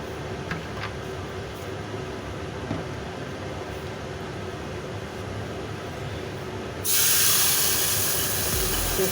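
A water-thinned paste of mustard, poppy seed, coconut, Kashmiri chili powder, salt, turmeric and green chili meets hot oil with cumin for vetki fish paturi. A low steady hiss suddenly erupts into a loud, sustained sizzle near the end.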